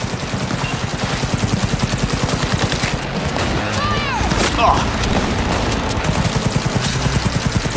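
Gunfire in the video game Cyberpunk 2077, a steady rapid stream of shots, close and loud, running throughout with a heavier boom midway and a game voice over the firing.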